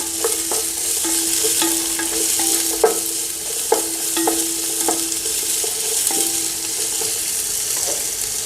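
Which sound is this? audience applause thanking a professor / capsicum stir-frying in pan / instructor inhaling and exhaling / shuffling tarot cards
capsicum stir-frying in pan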